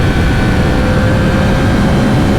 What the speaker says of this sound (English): I love that cross-plane crank sound